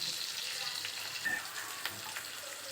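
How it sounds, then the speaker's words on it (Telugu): Onions sizzle and fry in a pan with a little salt while cooking tamarind rice, a steady soft crackle close by with faint stirring. "ఆనియన్స్ త్వరగా ఫ్రై అవుతాయి."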